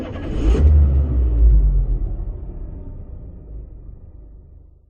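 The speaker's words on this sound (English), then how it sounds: "Press SSB to start the engine." Mahindra XUV700 engine started with the start-stop button: a quick crank burst, then a deep rumbling idle that flares briefly and settles, gradually easing off, with no talk.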